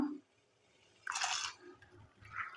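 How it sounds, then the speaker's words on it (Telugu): Pre-soaked lentils drop into a pot of water with one short, close splash, followed by faint drips in an otherwise quiet kitchen. "పప్పుకైతే నీళ్ళు పెట్టేసిన ఎసరు పెట్టేసిన పప్పు ఒక పది నిమిషాలు నానబెట్టుకున్నా చూడండి పప్పు వేస్తున్నా"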